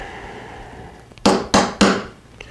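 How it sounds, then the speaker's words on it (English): Three sharp metallic taps of a brass hammer driving a larger pin punch, evenly spaced about a quarter second apart, close and loud over a quiet workshop background with no talking. "Just going to use a larger pin punch and tap that in."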